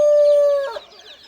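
A hungry chicken from a flock of growing, nearly fully feathered young birds lets out a single loud, drawn-out call that breaks into a rougher cluck, heard close and alone.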